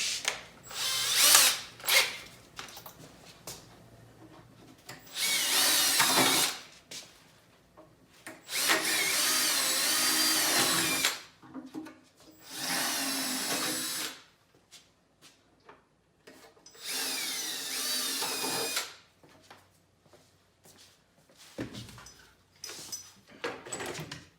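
A drill with a 3/16-inch bit bores into a plastic snowmobile hood in about six separate bursts of high whining, each a few seconds long, with short quiet pauses between them.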